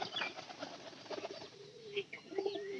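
Pigeons calling in a loft, quiet low coos rising near the end amid faint wing flutters and shuffling, with someone speaking softly over parts of it.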